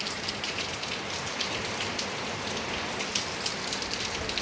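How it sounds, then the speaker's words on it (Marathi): Steady rain patters on a surface, a dense even hiss with brief louder drops, no voices. "पाऊस येत आहे इथं"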